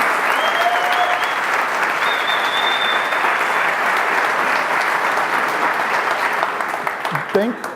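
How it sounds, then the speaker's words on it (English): An audience applauds steadily and fairly loudly for several seconds at a talk on walking robots, the clapping fading slightly toward the end as a voice begins to speak. "Thank you for that nice applause."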